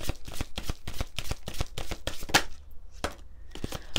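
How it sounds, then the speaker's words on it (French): A deck of angel oracle cards is shuffled by hand, making a quick series of crisp close slaps and riffles. A short pause follows, then a few more card snaps. "On va prendre, allez, quelques cartes des anges de vos rêves."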